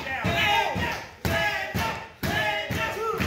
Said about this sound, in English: Crowd strongly behind Landon Hernandez for the Golden Glovers.